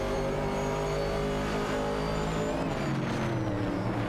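Race car engine at full throttle in a racing video game, a loud, steady, high-revving drone with layered harmonic tones that shift slightly as the car accelerates.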